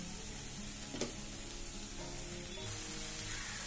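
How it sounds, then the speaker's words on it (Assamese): Chopped vegetables for poha fry steadily in a pan, giving a continuous close sizzle with a brief sharp clink near the start and soft stirring scrapes throughout. "মই গোটেইখিনি চব্জি ভালদৰে ভাজি লওঁ"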